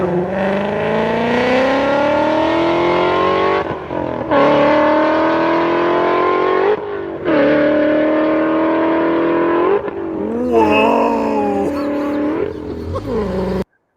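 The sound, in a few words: Grabber Lime car with 7-speed automatic revving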